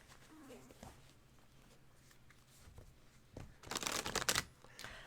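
Tarot cards being shuffled during a live reading, heard as faint rustling under soft background noise, then a louder burst of riffling card noise near the end.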